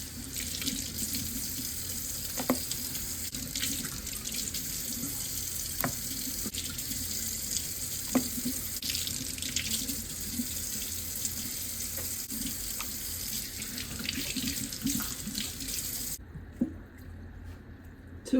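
Food being washed under a running kitchen tap in the sink, a steady close stream of water with occasional splashes and squishes, then the tap stops near the end.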